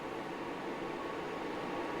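A Dr. J Professional air purifier fan running on high speed gives a steady, even whooshing hiss of moving air, constant and fairly quiet from start to finish.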